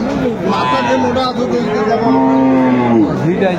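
A cow with her calf moos in a long, drawn-out call, fairly close, with some faint background voices.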